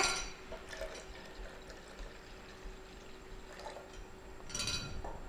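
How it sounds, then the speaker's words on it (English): Water pours faintly into a blender in a steady trickle, with a couple of louder splashy moments. "We have added another 1 cup of water."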